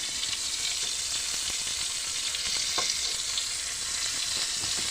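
Ridge gourd fries in a pan with a loud, steady, close sizzle that never lets up, punctuated by faint stirring scrapes and no talk.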